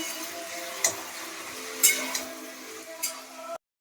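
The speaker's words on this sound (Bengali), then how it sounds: "পেঁয়াজটা তাহলে ভালো করে ভেজে নিই।" Onions frying in a pan, giving a steady soft sizzle broken by a few brief clinks of a utensil stirring, quiet and close, then cutting off abruptly.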